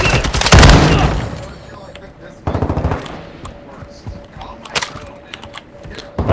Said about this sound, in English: Oh, somebody's shooting.